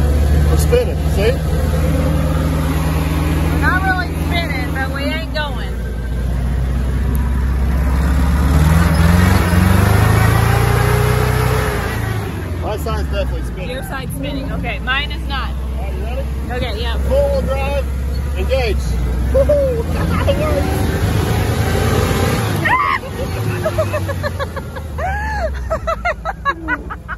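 An old jeep engine drives and spins its wheels on dirt, a loud rumbling motor rising and falling with revs throughout, while several people talk and exclaim over it.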